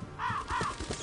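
Birds caw twice in the video game Ninja Gaiden Sigma, two loud crow-like calls in quick succession with a softer third cry near the end.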